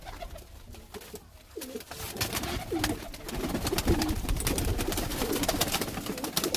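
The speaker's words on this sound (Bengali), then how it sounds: "কেমন ছটপটে পায়রা দেখতে পাচ্ছেন কেমন" Young Kalshira and Fulshira Giribaz pigeons coo and stir in a loft, with close rustling and shuffling that grows busier and louder after the first couple of seconds.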